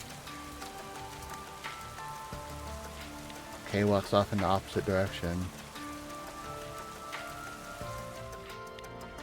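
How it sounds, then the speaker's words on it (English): Rain from the video game NIKKE pours in a back alley as an even, continuous hiss. A voice speaks briefly over it near the middle. "Only the sound of the rain remains in the back alley."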